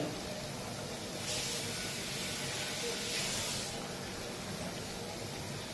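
Kunukku fritter batter deep-frying in hot oil, a steady broad hissing sizzle throughout, rising into louder bursts of spitting, near and continuous with no one talking.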